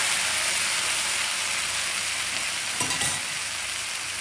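Cooked beans and prawns with chilli flakes sizzle and fry in a pan while being stirred, making a loud, continuous crackle with a brief scraping rustle near the end. No voices.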